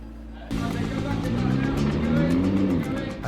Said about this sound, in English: reversing a crazily expensive hypercar down a wooden ramp next to big glass windows